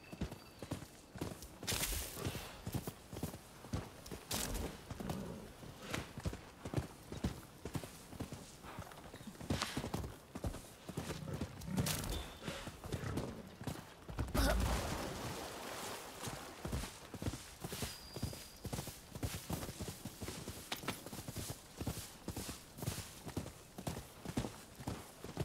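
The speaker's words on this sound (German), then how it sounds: "Ist das das Geräusch, das mein Pferd macht?" Horse hooves clip-clop steadily in Rise of the Ronin, a rapid, continuous rhythm of close, moderately loud footfalls across the whole stretch, with a brief heavier thud midway.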